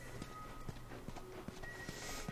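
Steady clip-clop of horse hooves in a regular walking rhythm, several evenly spaced hoofbeats over a low background hum, from the video game The Last of Us.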